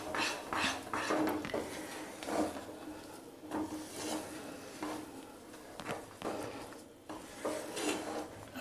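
A spoon scrapes and rubs through thick cashew paste in a hot kadhai with the flame off, giving repeated soft rasping strokes at an uneven rhythm, close and fairly quiet.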